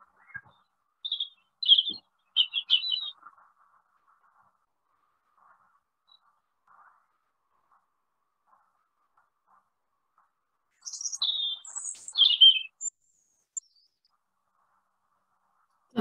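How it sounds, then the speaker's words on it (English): Woodland birds chirp and twitter in two short bursts, a near cluster of bright calls early on and another later, with long quiet stretches between them. "lots of birdsong near and far, and the wind in the trees too"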